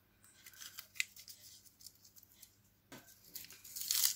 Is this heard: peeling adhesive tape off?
yes